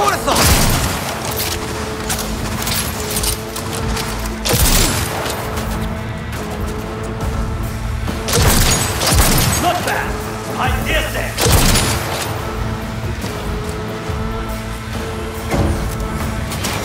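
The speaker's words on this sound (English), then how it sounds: "It's a grenade!" Grenade blasts in the video game Cyberpunk 2077, with loud booming explosions and gunfire bursts recurring over a constant rumbling combat backdrop, close and heavy.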